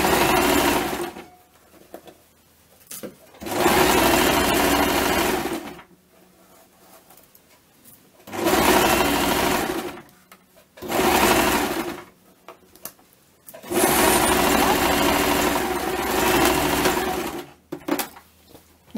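A home sewing machine stitches a DIY drawstring sports bag in several long motor bursts, with short pauses between runs as the fabric is turned, close and fairly loud with no talk.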